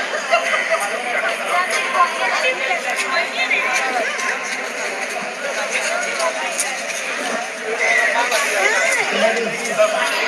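Dense crowd chatter at an appointment letter distribution ceremony for ANM candidates in Gorakhpur, a steady babble of many overlapping voices filling the whole stretch at an even, fairly loud level.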